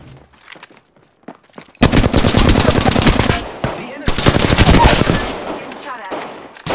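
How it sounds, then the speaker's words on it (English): Loud, close automatic weapon fire in the Apex Legends video game, two sustained rapid bursts with a brief gap between them, with a game voice heard briefly beforehand. "Listen up, I'm getting shot at."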